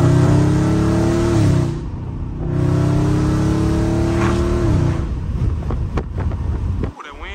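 A catless Dodge Scat Pack revs loudly while driving, its exhaust rising and falling in repeated bursts close to the microphone, with wind noise buffeting and engine tone dropping near the end.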